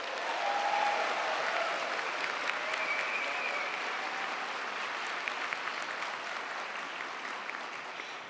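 A large crowd applauds at a UC Berkeley undergraduate commencement ceremony, with sustained, dense clapping that holds steady for several seconds and then eases slightly toward the end.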